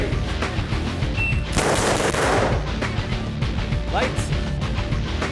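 Fast-draw revolver gunshots fired in the dark by a master gunfighter, a loud burst with a sharp crack and a brief reverberant tail, set against background noise and a voice.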